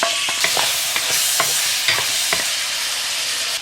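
Pork ribs with tomato being stirred in a pot, a spatula scraping in several quick strokes over a steady loud sizzle, no talking.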